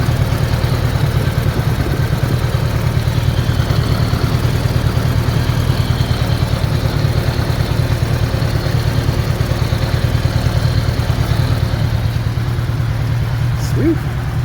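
A budget bobber motorcycle idles steadily with a leaking exhaust, a loud, constant low rumble and throb up close that continues unbroken throughout.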